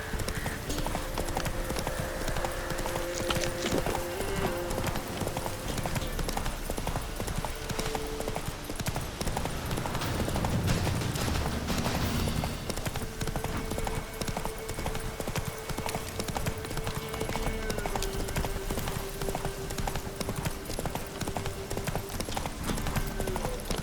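Horse hooves clip-clop steadily at a walking pace in The Witcher 3, with occasional snorts, under continuous game ambience and music throughout.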